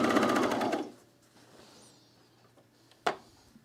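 A serger sewing machine stitches fabric in a quick, loud whirring burst for under a second, then stops, leaving quiet room tone and a single sharp click near the end.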